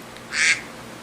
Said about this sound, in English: I don't know how to get the quacking off of there